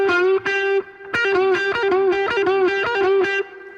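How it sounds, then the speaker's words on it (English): Distorted electric guitar plays a looping pentatonic lick that begins each figure with a pull-off followed by a picked note, loud, close and rhythmic after a brief false start, with no voice. "the third pattern would be where you start with the pull off and then pick."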